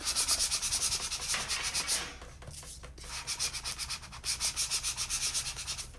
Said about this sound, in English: So again, I'm going to take my little squeegee. I'm going to burnish these letters on really good.